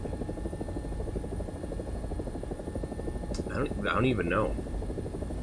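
An AB 205, the Italian UH-1H helicopter, in a video game produces a steady low rotor drone throughout, while someone talks briefly over it near the end.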